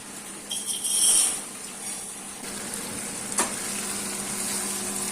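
Mushrooms, onion and rabbit tongues fry in a pan with a soft, steady sizzle, faint and close, with a brief scrape of stirring early on and no talk.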